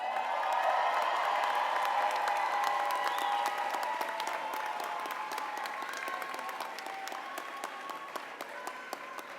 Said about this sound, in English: Graduates, please offer these amazing people who have helped you a round of applause.